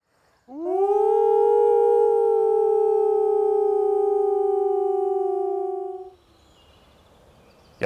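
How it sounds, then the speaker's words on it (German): A single long, steady howl at a wolf center where dogs and young wolves howl together, rising in suddenly, holding loud and even for about five seconds, then breaking off into quiet rustling. "wenn die Hunde anfangen zu heulen, werden auch die jungen Wölfe hier anfangen zu heulen"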